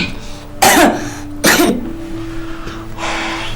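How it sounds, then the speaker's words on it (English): During a medical examination, two sharp, forceful coughs in quick succession, followed by a softer breathy exhale, close to the listener. "Breathe in, cough, harder."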